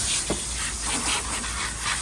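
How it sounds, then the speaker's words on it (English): Close, steady hissing spray of a water hose rinsing off fuel spray from a dump trailer, with soft rubbing and splashing textures throughout and no voices. "I'm gonna hose off that fuel spray that was in my face"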